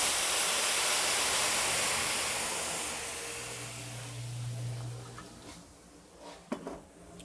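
Chardonnay poured into a hot risotto pan hisses and steams loudly, the broad sizzle gradually fading to a softer simmer with a few clinks near the end.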